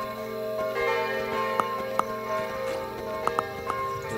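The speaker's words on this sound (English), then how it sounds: "Let's ring this bell." A bell rung in the video game Kingdom Two Crowns gives several sharp metallic strikes at irregular intervals, ringing over a steady layered background of game music and ambience.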